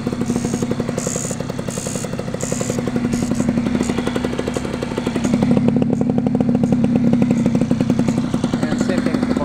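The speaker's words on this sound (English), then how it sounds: "You have to rev it up." The engine of a 1988 Yamaha TDR80 two-stroke motorcycle with a dead battery, revving with a steady, rapid, buzzy idle that rises briefly near the middle, loud and close, with no talk.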